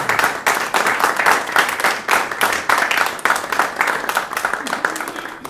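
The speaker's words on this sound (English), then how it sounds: "So I think we should give an applause to Otto Wanke, the prize winner." Applause for the prize winner of an international electroacoustic composition competition, a moderate group clapping with distinct rhythmic hand claps, fairly close and steady throughout, tapering slightly at the end.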